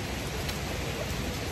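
Steady rain pouring down outside near a collapsed temple, a dense, even hiss holding at constant loudness throughout with no voices.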